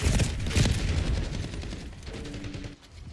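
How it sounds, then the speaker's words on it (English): Dense bursts of rapid gunfire from a Call of Duty Black Ops 6 multiplayer hardpoint match, loud and close at first, then thinning out and fading toward the end. "Enemy sniper shooting."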